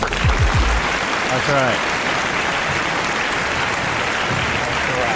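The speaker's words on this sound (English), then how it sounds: "Round of applause sound effect." A canned round-of-applause sound effect plays on a podcast: dense, continuous crowd clapping that holds steady throughout, with a voice speaking briefly over the start.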